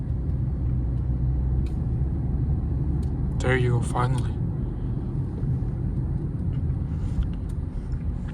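Dodge Charger SXT engine rumbling steadily while driving, a constant low drone filling the cabin, with someone briefly speaking partway through.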